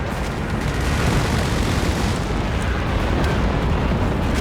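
Walking Stuka rocket barrage in Company of Heroes 3 erupts as a dense, continuous roar of overlapping explosions and booms, loud and sustained throughout the battle without pause.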